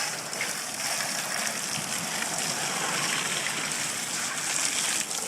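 A steady, dense hiss of spraying water rinses the engine bay of a BMW E39 M5, continuous and loud at close range, with splatter and gushing throughout.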